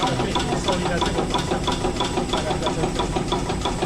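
A carbon road bike frame fatigue testing machine cycles in a fast, even mechanical rhythm of repeated knocks and whirs, steady and close throughout, with voices talking over it.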